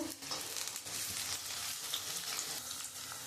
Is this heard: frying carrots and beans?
yes